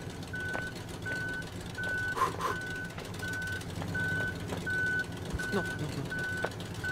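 A reversing truck in the Human Fall Flat video game emits steady, evenly spaced electronic beeps, moderately loud over a low engine rumble, with a few faint clunks in between.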